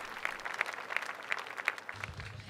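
An audience at a church testimony gathering applauds, with scattered claps sounding over a steady wash of clapping for a couple of seconds, moderately distant.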